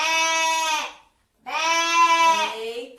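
Sheep bleating in a children's animal-sounds lesson: two long, loud, close wavering bleats with a short gap of silence between them.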